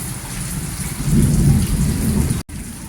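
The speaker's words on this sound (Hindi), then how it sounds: "आवाज़ आई होगी आपको कितनी तेज बिजली चमक रही है।" A thunderstorm pours heavy rain onto outdoor surfaces in a steady, loud roar. Deep rumbling thunder swells in the middle, and the sound drops out briefly near the end.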